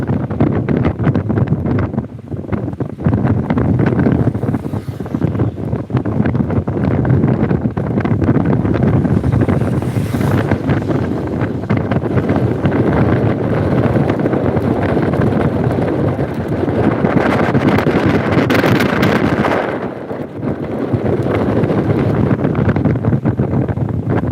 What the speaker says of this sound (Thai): คลื่นลมแรงครับคลื่นประมาณ 2 เมตร